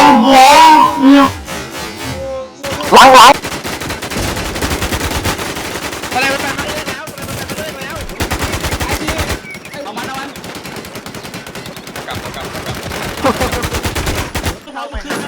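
Gunfire in a shooting video game: loud, rapid machine-gun bursts and shots crackle almost nonstop. Brief gaps separate clusters of rounds.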